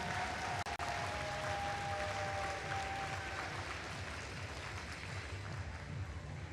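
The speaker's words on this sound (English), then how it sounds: "Give them a huge round of applause." Crowd applause at a robotics competition award ceremony, a broad, steady wash of distant clapping that stays even throughout, with a brief dropout near the start and a thin tonal whine in the background.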